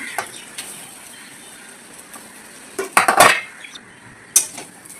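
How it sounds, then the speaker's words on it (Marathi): Grated fresh coconut is stirred in a pan for modak filling, with faint scraping and a few sharp clinks of a utensil against the metal, the loudest strikes clustered near the middle. "आता हे आपल्याला व्यवस्थित परतून घ्यायचं आहे"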